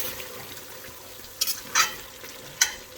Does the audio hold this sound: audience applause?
no